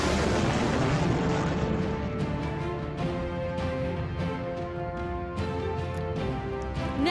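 Missiles launch and burst in the space battle game Sunrider: Mask of Arcadius, a dense, rumbling barrage of booms and blasts rolling continuously at full loudness, without any voice over it.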